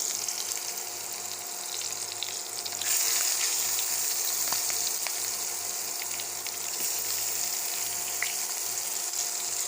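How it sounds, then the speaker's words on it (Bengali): Onion fries in oil already used to fry egg and cauliflower, giving a continuous loud sizzle with faint crackles. It jumps louder a few seconds in and then holds steady, with no speech. "তো পেঁয়াজটা এখানে ভাজা হতে থাক,"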